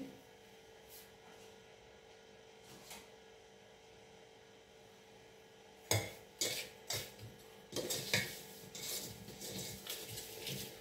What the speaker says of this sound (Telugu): ఇప్పుడు ఇవన్నీ మనం కలిపేసుకోవాలి